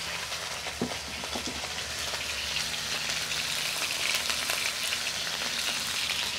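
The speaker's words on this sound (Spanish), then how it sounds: "ya que la cazuela está bien caliente, le voy a poner la carne" Ground beef frying in a very hot clay cazuela for ranch-style picadillo, a continuous close sizzle with a few crisp pops near the start and no talking.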